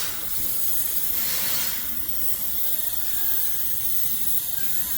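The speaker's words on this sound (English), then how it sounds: "We're gonna spray directly down in the throttle body." Aerosol spray hissing straight down into a car's throttle body during a no-start diagnosis, a steady close hiss in a couple of long bursts, with no talking.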